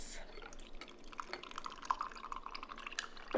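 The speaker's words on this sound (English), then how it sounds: "Pour that in your glass." A piña colada mocktail with cream of coconut is poured from a shaker into a glass, giving soft, faint liquid trickling and scattered drips with light glassy clinks, quiet and near.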